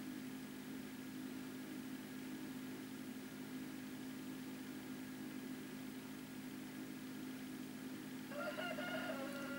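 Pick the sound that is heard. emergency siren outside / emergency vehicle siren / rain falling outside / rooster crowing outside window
rooster crowing outside window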